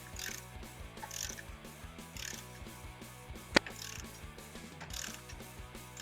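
A torque wrench ratchets repeatedly while tightening a bolt on a Mustang intake, with one sharp, loud click partway through, close up and with no talking.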